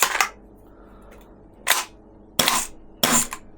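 A King Arms TWS 9mm airsoft gas blowback rifle fires four sharp, loud, close shots at uneven intervals. Quiet gaps separate the shots.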